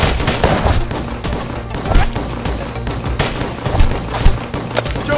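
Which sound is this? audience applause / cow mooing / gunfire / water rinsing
gunfire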